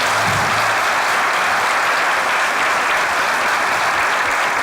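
Sustained audience applause fills the room, loud and even throughout, many hands clapping together without a break.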